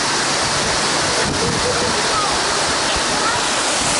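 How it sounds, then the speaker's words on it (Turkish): Water pours over a fountain bowl in Vigeland Park, Oslo, a dense, steady splashing rush that fills the whole stretch at close range, with a voice faintly present underneath. "Ve onun üzerinden su akıyor."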